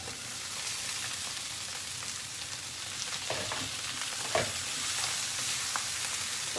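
Glutinous rice and peanuts fry in a hot pan with a steady, close sizzle and occasional scraping stir sounds throughout, with no talking.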